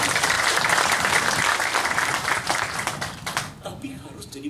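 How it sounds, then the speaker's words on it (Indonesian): An audience at a church retreat breaks into loud, dense applause that gradually thins out and fades toward the end, with a voice coming back in over the last claps. "Kita beri tepuk tangan."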